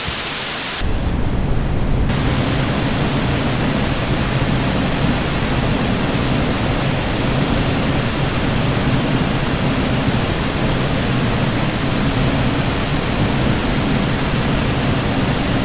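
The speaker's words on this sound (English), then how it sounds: "So here's a pink noise demo." A steady, loud hiss of pink noise test signal runs unchanged for the whole stretch after a brief shift at the start.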